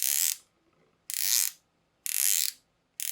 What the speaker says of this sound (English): The bezel action is consistent and smooth with good resistance, but the clicks are very loud compared to most of my other San Martin divers.